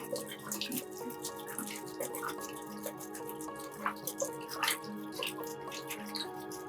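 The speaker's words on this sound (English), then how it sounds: "I like to pour a wee bit of water into the bucket to avoid the filter spilling over everywhere." Water trickles and drips into a bucket during pond tank maintenance, a light, uneven splashing with scattered bright droplet hits over a faint background, fairly quiet and without talk.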